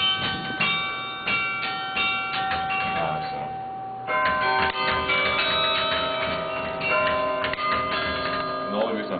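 Campanile tower bells on a college campus, played softly by hand in winter: overlapping struck tones ring and sustain, with a fresh cluster of strikes about halfway through.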